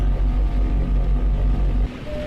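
A plane crashing into the ocean in the video game Dead In Bermuda: a loud, heavy low rumble with churning, watery texture roars for about two seconds, then abruptly drops to a softer, steady wash with a faint tone.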